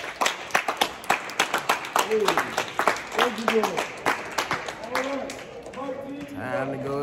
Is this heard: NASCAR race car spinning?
no